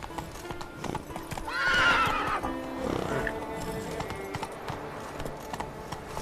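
A horse in The Witcher 3 gallops with rapid hoofbeats and lets out a loud whinny near the start, then hooves keep drumming on under faint background sound.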